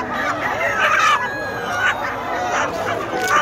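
Several live chickens cluck and a rooster crows nearby at a live poultry market in Saudi Arabia, with overlapping calls in a busy setting.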